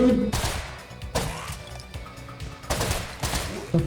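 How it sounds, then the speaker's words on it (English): Repeated bursts of gunfire in the zombie video game Zombuds, several loud volleys spaced about a second apart with clattering impacts between them. "when you make noise, the zombies are attracted to your gunfire"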